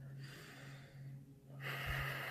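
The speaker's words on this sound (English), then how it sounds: "Take some deep breaths." A deep breath drawn in and let out, a soft airy inhale followed by a stronger rushing exhale, close and quiet over a low steady hum.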